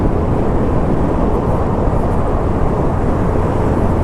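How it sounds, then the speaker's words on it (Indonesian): Strong wind roars steadily and loudly past a rider on a Suzuki Burgman scooter traveling between Bangkalan and Surabaya, a dense continuous rush with no voices. "Anginnya lumayan kenceng ini meskipun nggak berombak teman ya."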